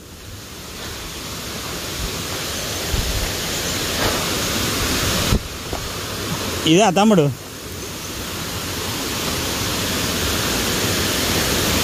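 Steady broadband rush of Mashenuloddi Waterfall fills the whole stretch, loud and continuous, with someone speaking briefly partway through over the roar.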